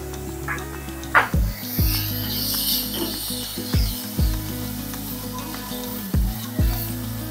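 Spices and turmeric sizzle steadily in hot oil as a tempering for dal amti, broken by a few sharp mechanical clicks at irregular intervals, with no voices.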